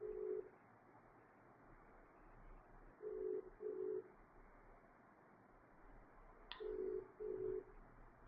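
An unanswered phone call rings out as a faint, distant ringback tone in repeated double pulses, separated by pauses, over a low background hum.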